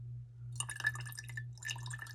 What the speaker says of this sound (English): I am going to pour it in through the funnel